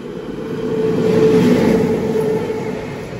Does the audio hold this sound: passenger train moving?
yes